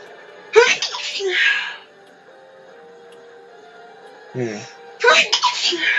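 A sharp, breathy sneeze bursts out close by, followed later by another quick explosive burst after a quiet stretch.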